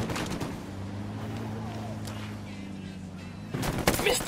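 Sniper gunfire in the Ghost Recon Wildlands video game: sharp loud shots crack at the start and again near the end, with a low engine-like hum and a voice speaking in between.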